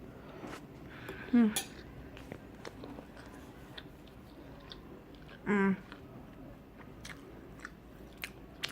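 Mouth sounds from eating a one-pot vegan chilli stew: two short bursts of close chewing and biting with faint cutlery clinks, separated by quiet stretches of low room noise.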